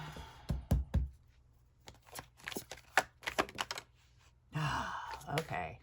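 Tarot cards are shuffled in a series of quick crisp riffles and snaps, close up and fairly quiet, with a soft voice breathing and murmuring between them.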